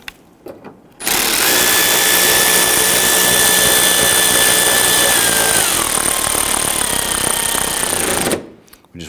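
A power tool drives a 10mm bolt into the bumper cover of a 2011-2023 Dodge Charger, a loud continuous whirring burst lasting about seven seconds with a pitch that drops partway through, starting and stopping abruptly.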